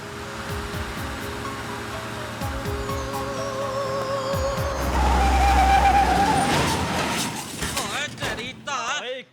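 A car driven badly skids, its engine noise swelling into a loud screeching slide in the middle before breaking up near the end, with voices mixed in.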